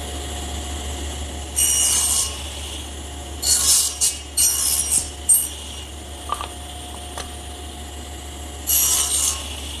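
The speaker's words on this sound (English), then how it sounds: "the next thing I have to do is make my shoulder cuts on the edges" Handsaw strokes cut shoulder cuts into the edges of wooden chest rails, coming in short bursts of rasping scrapes with pauses between them, close and moderately loud over a steady low hum.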